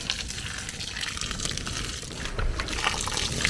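Hot water pours onto a soldier ant colony at home, a continuous close splashing gush that grows slightly stronger toward the end.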